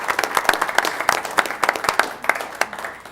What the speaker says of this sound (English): please, let's give them a round of applause for all their work